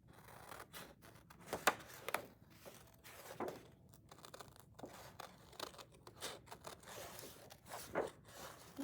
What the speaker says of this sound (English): Now I'm going to cut those out so I can add those to my scene.